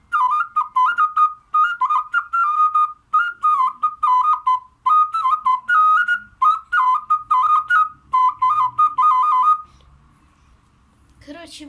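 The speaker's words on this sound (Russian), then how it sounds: "вот такая свистушка продается там, где родина Есенина" A small Russian folk clay pipe whistle (svistushka), sold near Yesenin's birthplace in Konstantinovo, plays a fast warbling trill in repeated bursts, loud and close, then stops and a brief noise follows.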